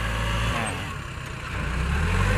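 Kubota L4508 mid-size tractor with a front dozer blade pushing a full load of soil, its diesel engine rumbling steadily and close, dipping slightly under load before rising again.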